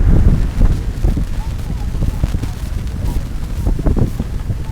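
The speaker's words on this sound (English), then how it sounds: "It is as swirly and gusty as it gets out here on Lake Carnegie." Gusty, swirling wind buffets the microphone on Lake Carnegie during a women's rowing race, a loud steady roar with rumbling low-end bursts throughout.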